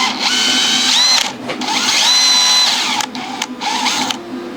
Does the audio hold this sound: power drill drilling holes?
yes